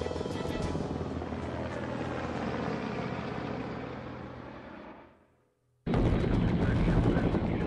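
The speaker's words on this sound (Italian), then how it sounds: "voleremo insieme a uno degli elicotteri più sofisticati dell'esercito statunitense" US Army Black Hawk military helicopter: a loud, dense, continuous rotor and engine roar that fades away to near silence, then cuts back in abruptly at full strength.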